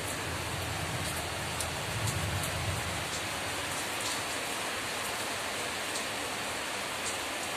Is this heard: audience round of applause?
no